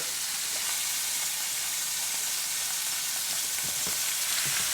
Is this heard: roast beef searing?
yes